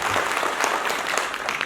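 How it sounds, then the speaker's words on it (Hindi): Audience at a training and honours event in Patna breaks into hearty applause, a dense, steady wash of clapping that holds at an even level throughout. "इसके लिए आप सब लोगों के लिए एक बार जोरदार ताली होनी चाहिए।"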